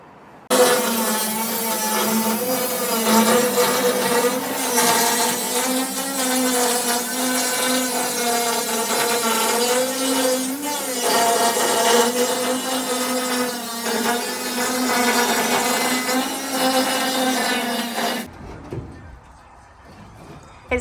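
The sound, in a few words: power tool cutting a hole through a steel narrowboat roof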